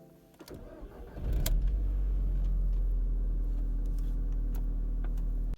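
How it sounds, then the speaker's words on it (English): An Audi TT engine cranks over and catches, then settles into a steady, loud idle that continues close by, with no talking. "let's turn my car on, get some heat in my thing, and go for the first drive"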